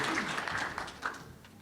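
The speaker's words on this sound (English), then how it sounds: "So a round of applause for Diandra, please." Audience applause at the closing of a nature-based climate solutions summit, a dense wash of clapping from a room of people that fades toward the end.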